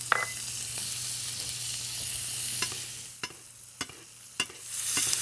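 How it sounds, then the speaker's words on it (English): Butter sizzles and crackles around a steak searing in a pan, a steady low hiss with a few sharp spoon or pan clicks as the hot fat is basted over the meat, close up with no talking. "we're gonna baste the steak with some butter before we pull it out"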